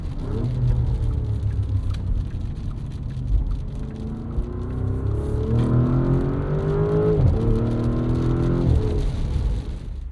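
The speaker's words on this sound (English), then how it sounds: "we're gonna do a launch control and then we'll jump on the highway" A 2024 Porsche Cayenne S V8 roars as it accelerates hard from a launch control start, its pitch climbing and briefly dropping at each gear change, loud and close.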